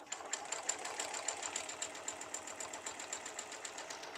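A home sewing machine stitches a quilt block at slow speed, a steady rapid needle clatter running evenly throughout, close and moderately quiet.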